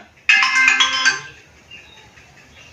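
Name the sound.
mobile phone ringtone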